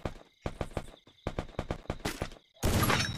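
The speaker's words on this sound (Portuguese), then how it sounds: "O Claudinho deu tiro nele" Several sharp bursts of rapid video game gunfire in quick succession, loud and close, followed by a dense roar of sustained shooting.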